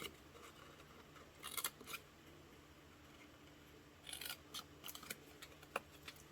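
Scissors snip paper tabs for a homemade perfume gift box, two short clusters of close, crisp cuts separated by quiet, over a faint steady background hum.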